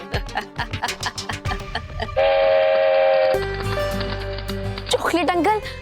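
Chocolate toy train from a children's TV fantasy show runs with rhythmic chugging, then a loud sustained whistle-like horn blast and a rumbling run, with voices and musical effects mixed in.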